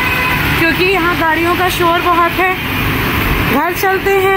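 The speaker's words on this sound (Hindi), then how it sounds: "यहाँ गाड़ियों का शोर बहुत है" Road traffic noise with cars, buses and trucks rumbling and idling nearby, a steady loud din under people talking throughout.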